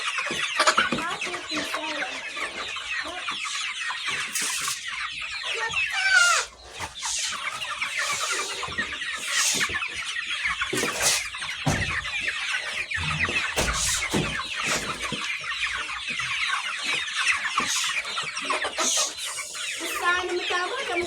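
Chickens cluck and squawk steadily close by in a Rwandan poultry setting, a dense flock chorus with occasional sharper squeals, and no voices heard over it.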